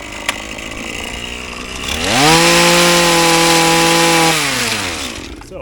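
A petrol hedge trimmer idles with a low, rough engine putter, then revs up to a loud, buzzing whine, holds it for a couple of seconds and drops back down.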